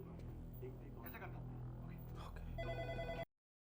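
A telephone rings with a steady repeating electronic bell tone, loud and close, while a voice speaks over it before the sound cuts off abruptly.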